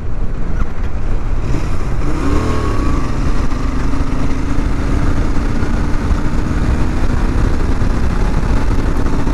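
A Royal Enfield GT 650 twin-cylinder motorcycle at high speed in fifth gear on a highway, a loud, constant engine drone mixed with heavy wind roar, holding steady throughout without any talk.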